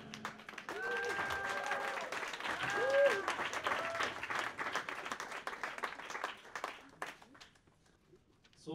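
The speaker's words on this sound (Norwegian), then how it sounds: "Applaus til min gjeng med internasjonale toppmusikere," An audience at a prize ceremony applauds for a live band, sustained clapping from a sizeable crowd mixed with cheers and a few held vocal tones, thinning out toward the end before a voice returns.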